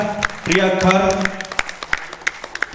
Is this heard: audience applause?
yes